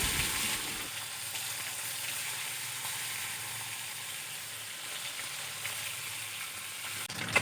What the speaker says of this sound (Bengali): তেল খুব ভালো মতো গরম হয়ে গেছে। এখন আমি এক এক করে মাছগুলো